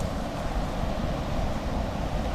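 Continuous broadband roaring of strong wind buffeting the microphone, steady and loud throughout with no voices.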